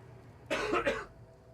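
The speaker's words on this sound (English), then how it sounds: "It's just this fucking raggedy-ass cough that won't go away." A single burst of raspy coughing, two or three quick hacks close together, from one person with a lingering cough, standing out briefly against a quiet background hum.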